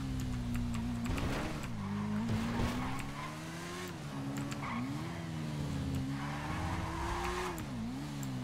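A motorcycle in the game GTA V brakes and skids, its engine droning steadily and rising and falling in pitch, with faint squeal-like bursts over a continuous close hum.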